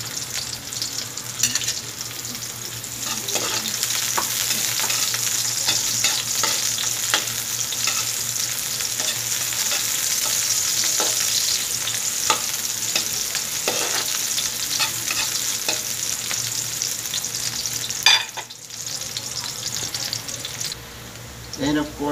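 Ginger and onion fry in a pan with a loud, continuous sizzle and occasional stirring scrapes, close up, as ingredients go in for a chicken dish cooked with coconut milk; a voice talks briefly over it.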